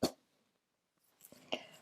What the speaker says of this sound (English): Sorry for the cough there